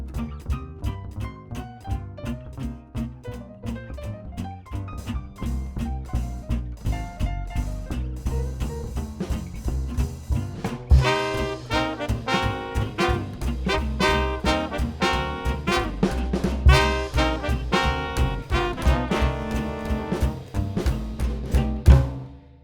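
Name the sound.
swing drumming, hi-hat then ride and crash cymbals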